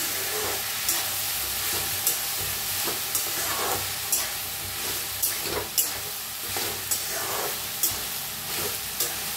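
Moth beans and potatoes dry-roast in a kadhai, with a soft continuous hiss and crackle broken by repeated scraping stirs at roughly one-second intervals, close and moderately loud, with no voices.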